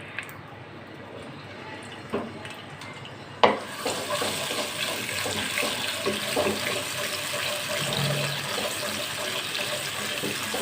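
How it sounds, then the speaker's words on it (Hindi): Garlic, about a tablespoon, sautéing in a pan for a pasta dish: a couple of soft clatters, then a sharp knock and a steady, even sizzle that carries on to the end, with no talking. "ये 1 टेबल स्पून के बराबर मैंने लहसुन डाल दिया है। अब इसको मैं सौते करूँगी।"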